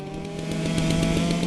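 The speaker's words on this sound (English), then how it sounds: "You can hear the chainsaws behind me," Chainsaws drone steadily nearby at the University of Montana Foresters Ball, a loud buzzing engine whine that holds constant with slight revving throughout.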